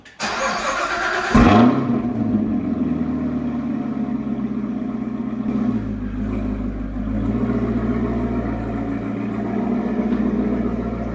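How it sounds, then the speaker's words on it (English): A C7 Corvette ZR1 cold start: the starter cranks, the engine catches with a loud roaring flare, then settles into a deep, steady high idle that swells slightly midway, close and alone. "let's do a cold start"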